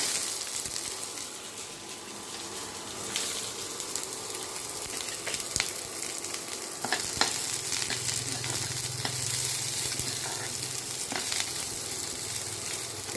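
Onions sizzling in a small amount of refined oil for an egg roll filling, a steady close crackle with occasional scrapes and clicks of stirring throughout, no voices.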